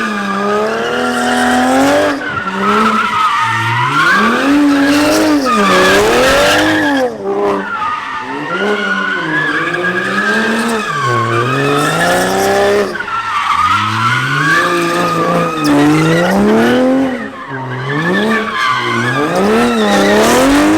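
A 2020 Toyota Supra with an automatic gearbox drifts, tires squealing loudly in long wavering howls over engine revs, continuous and close.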